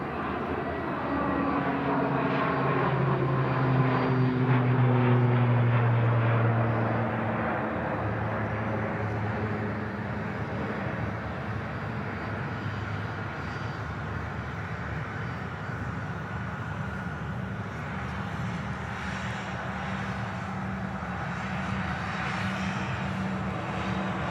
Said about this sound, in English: The ATR, quick rotation off the runway to get out the way for the landing Transavia.